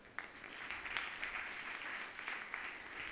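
Steady applause from a crowd, a continuous patter of many hands clapping at moderate volume with no voices.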